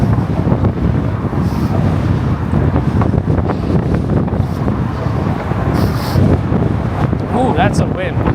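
Strong wind gusts buffet the microphone on a Manhattan city street, a loud continuous low roar and rumble lasting throughout, with voices talking faintly over it and brief higher traffic sounds near the end.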